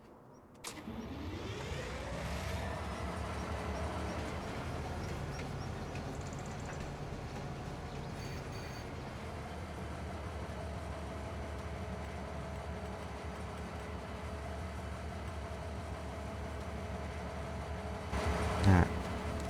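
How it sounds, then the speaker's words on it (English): A train in a video game runs with a steady low rumble and hum after starting up, holding constant for most of the stretch, with a louder clatter near the end and a voice talking over it. "Yes, the train is here."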